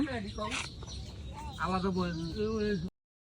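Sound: hen with chicks

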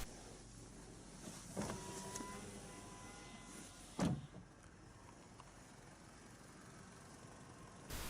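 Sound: car petrol engine idling

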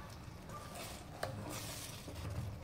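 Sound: stirring milk into rib croquette mixture in a pan

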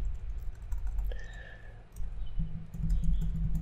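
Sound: typing on a computer keyboard

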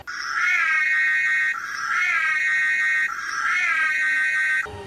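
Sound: Ghostbusters hearse alarm in video game LEGO Worlds

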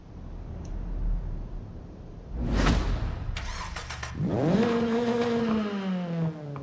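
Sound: Nissan Silvia S15 Spec R engine starting, Forza Horizon 5 video game

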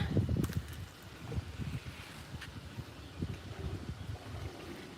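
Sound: strong wind outdoors

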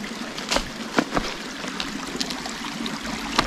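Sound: spring water stream trickling

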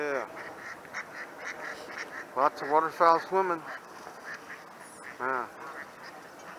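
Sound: waterfowl, ducks and geese, calling

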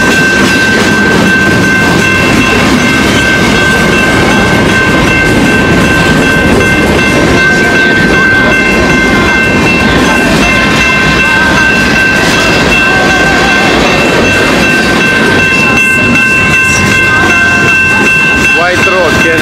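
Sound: passing train

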